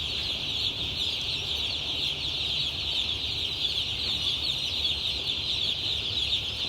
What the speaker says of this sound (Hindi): माशाल्लाह चूज़ा एक्टिव है और काब ब्रीड है इनकी